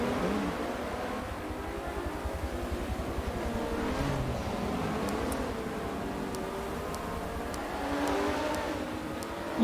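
Porsche GT race car pulling away on a wet Nurburgring GP circuit, a steady engine drone mixed with hissing spray from the wet track, continuous and fairly loud with no voices.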